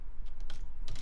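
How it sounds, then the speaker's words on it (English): Short bursts of keystrokes on a computer keyboard, a few quick clusters of soft clicks over a steady low background hum, no voices. "we'll just finish typing all of this stuff"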